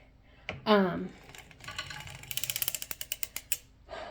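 Hand-cranked circular sock knitting machine with ribber attached, a close rapid series of clicking, ratcheting ticks in a regular rhythm, preceded by a brief creak and light handling noise.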